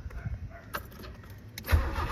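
A Nissan Sentra with a suspected faulty ECU cranks and its engine catches, a brief rough whirring turn-over rising into a louder burst of running engine, recorded close with no talk.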